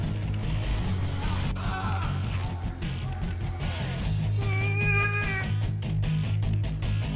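A cat meows loudly over a voice chat during a Team Fortress 2 match, giving several drawn-out, wavering cries, one long and insistent near the middle, over a steady background hum from the game.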